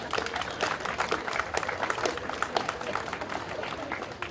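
Audience clapping at a morning gathering, a brief burst of scattered hands of moderate loudness, uneven and fading toward the end.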